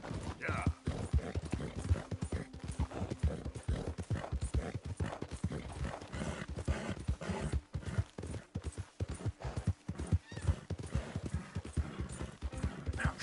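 A horse gallops in the video game Red Dead Redemption 2, with fast, steady hoof clops continuing throughout under a rider's occasional spoken urging.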